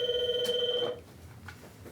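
A telephone rings close by, one steady electronic ring tone lasting about a second that then cuts off, leaving quiet room noise.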